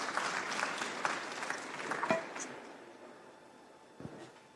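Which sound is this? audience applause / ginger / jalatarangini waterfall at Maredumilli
audience applause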